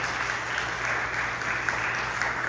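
A church congregation applauds in a steady, continuous wash of clapping that holds at an even level throughout without clear breaks, and no voice is heard over it.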